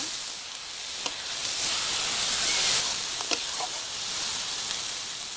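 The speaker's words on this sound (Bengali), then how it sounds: "মশলাটা ভালোভাবে কষানোর জন্য একটু দিয়ে দিচ্ছি জল, যাতে সেদ্ধ হয়ে যায়।" Water poured onto frying fish curry spices for a katla fish curry with cauliflower and potato: a steady loud hiss and sizzle, with a few faint clinks of stirring, no talk.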